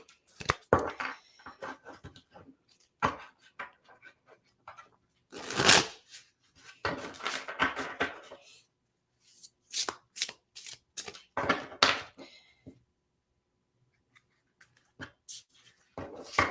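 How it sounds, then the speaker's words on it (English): Cards being shuffled in repeated riffling bursts separated by short pauses, close up and fairly crisp, with no voices. "I kind of just shuffle until it feels like it needs to stop"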